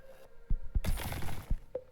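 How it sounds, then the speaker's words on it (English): Bricks smash as a wall is broken through in a video game: a few sharp knocks, then a loud crumbling, shattering burst with debris clattering and a couple of trailing thuds, close and with no speech. "We break through the wall, but the smashing of the bricks causes a loud noise"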